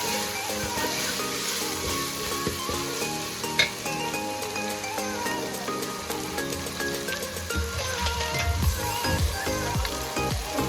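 Chettinad-style chicken masala frying in a pan, a steady dense sizzle with crackling spits and occasional stirring scrapes, loud and close throughout with no talking.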